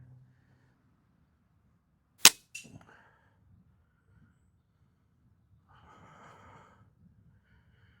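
A single sharp crack from a spring-piston air rifle, loud and close, followed by a brief mechanical rattle, then near silence with faint breathing and a soft later rustle.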